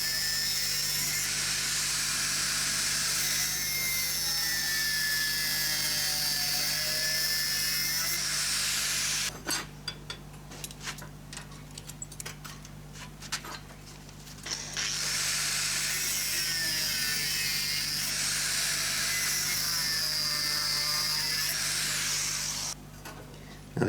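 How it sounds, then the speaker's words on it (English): An angle grinder with a thin disc cuts excess 6mm by 25mm steel stock clamped to a bench: a loud, steady whining grind, then a quieter, rougher stretch, then a second sustained cut near and alone. "I'm just cutting off the excess stock here with an angle grinder and a thin grinding"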